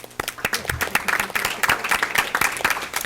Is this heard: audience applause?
yes